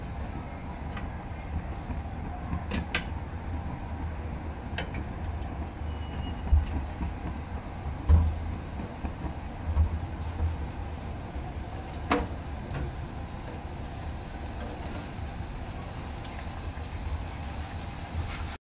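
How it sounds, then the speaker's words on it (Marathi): Potato patties frying in oil in a pan on a gas stove give a steady, even sizzle, with scattered small crackles and pops throughout. "अशा प्रकारे मी सर्व पॅटीस तळून घेणार आहे."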